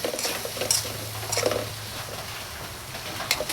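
Food being stirred in a pan while cooking with cheese spread, giving soft scraping and clinking in irregular bursts over a low steady hum, moderately close.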